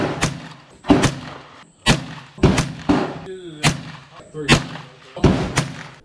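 .22 rifle firing extra supersonic ammunition at a target 100 yards away: about eight sharp, loud, close shots at an uneven pace, each with a short decaying echo.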